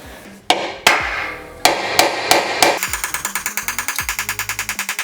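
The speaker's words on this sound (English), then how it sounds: "after hammering that out a little bit, you can see that that's relatively flat" Hammer blows ring out on a car's sheet-metal transmission tunnel, a few heavy strikes at first, then a rapid, steady run of sharp clanging hits, loud and close.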